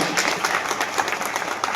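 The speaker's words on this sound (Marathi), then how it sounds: "सर्वांनी एकदा जोरदार टाळ्या वाजायच्या आहेत" A crowd at a state-level youth rally applauds with dense, steady clapping throughout the brief moment, loud and close, without any talking.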